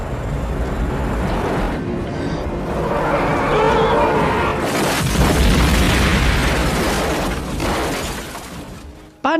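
A car goes over into a ravine and explodes: a long, loud, dense roar of crashing and shattering debris with booming bursts, sustained for about nine seconds and ending abruptly.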